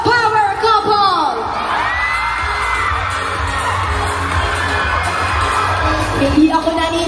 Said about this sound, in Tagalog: gusto ko marinig yung hiyawan nyo